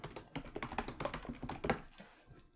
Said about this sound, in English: So if I type out something like this